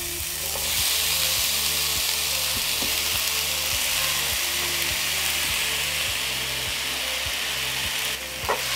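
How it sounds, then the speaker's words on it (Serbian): Vegetables, including tomato, hit 2 to 3 spoonfuls of hot oil in a frying pan and sizzle steadily and loudly throughout, with faint scraping clicks of a utensil against the pan. "Ulje se zagrejalo i spuštam povrće."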